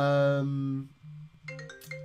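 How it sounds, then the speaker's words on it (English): A phone rings for an incoming call: a sustained melodic tone, then a quick run of short repeating chimes, close and clear with faint sound around it. "I've got a phone call."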